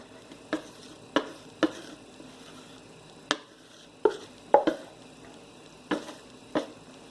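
Brownie batter is scraped from a bowl onto a pan in a series of sharp, irregular clicks and taps, about nine spread over several seconds, close up against a quiet background.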